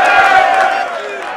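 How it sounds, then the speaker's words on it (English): A rugby crowd at the 2014 Bamburi Rugby Super Series final roars in delirious celebration, a dense, loud wall of cheering and whooping that holds steady, then eases slightly toward the end. "you could hear the crowd just getting into some level of delirious celebration there"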